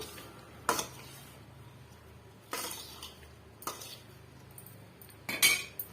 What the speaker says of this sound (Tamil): நல்லா இது போல குலுக்கி விட்டுக்குங்க.